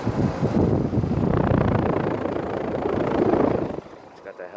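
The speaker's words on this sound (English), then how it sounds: "It's got the helicopter fan blades, like usual." A 2013 Rheem 3-ton air conditioner's condenser fan whirs with a steady broadband rush, running loudly before quieting toward the end.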